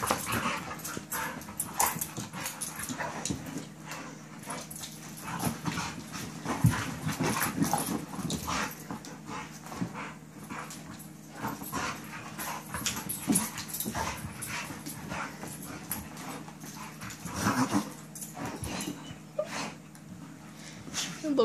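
A dog at play makes whimpering and growling noises in a steady run of close vocal bursts and scuffles, with people talking intermittently over it.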